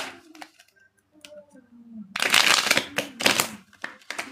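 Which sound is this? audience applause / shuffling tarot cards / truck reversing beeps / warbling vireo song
shuffling tarot cards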